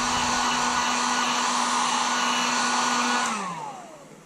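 A heat gun warms the plastics of a CR125R motocross bike before the graphics go on. It gives a loud, steady blowing whine for about three seconds, then winds down and fades.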